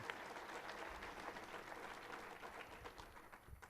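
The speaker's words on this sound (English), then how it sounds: "an applause for the Leeds School of Business there." Faint, distant audience applause at a university spring town hall, honoring the Leeds School of Business, a continuous soft patter of many hands with a few scattered voices mixed in.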